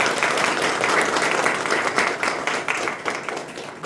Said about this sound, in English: Let's do a big applause